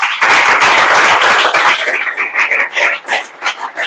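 A classroom audience claps quickly in a fast burst of dense, loud applause that thins toward the end.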